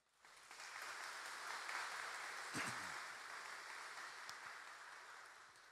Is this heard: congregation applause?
yes